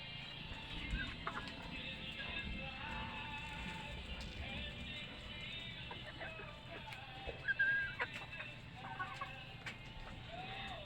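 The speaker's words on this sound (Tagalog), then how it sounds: "Ayan po ang aking mga alagang mga manok. Native po yan." Backyard native chickens, a flock of around twenty hens, cluck and murmur in scattered, soft bursts against steady outdoor ambience, with a few sharper calls standing out near the middle.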